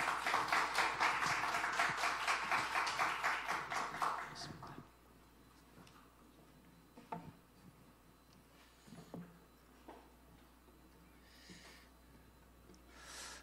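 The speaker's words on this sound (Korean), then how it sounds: "이제 나오셔서 강연하실 테인데 박수로 환영을 해주시기를 부탁드립니다" Audience applause at a lay academy lecture in a church setting welcomes the lecturer, a dense burst of clapping for about four seconds that stops abruptly, followed by quiet room noise with a few faint bumps.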